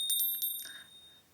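A small bell struck several times in quick succession, bright and ringing, the last strike left to fade out, with no talk.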